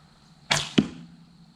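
An arrow shot from an S.A.S Recon Survival Bow: a sharp string release and whoosh, then a loud impact a fraction of a second later, close by with no talk.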